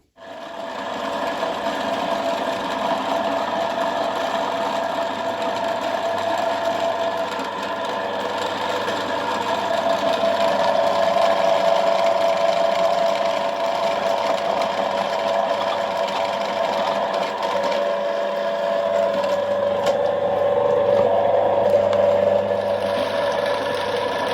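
An electric tomato juicer runs continuously with a loud, steady motor whine and a buzzing mechanical vibration that holds for over twenty seconds, shifting slightly in pitch, alone with no talking.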